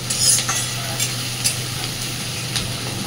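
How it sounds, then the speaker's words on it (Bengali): Onions fry in a pan until brown, with steady sizzling and crackling and occasional scrapes of stirring, close and continuous with no voices. "বেশ সুন্দর একটা ব্রাউন কালার আসা পর্যন্ত পেঁয়াজটাকে সুন্দরভাবে ভেজে নেব"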